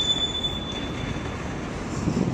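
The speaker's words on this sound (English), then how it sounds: "Being they've got at least 30 plus wagons in tow, fully loaded, this is an extremely fast acceleration." A fully loaded container train of thirty-plus wagons hauled by Class 90 electric locomotives, accelerating hard: a steady, fairly distant rumble of wheels and traction with a thin high whine held throughout.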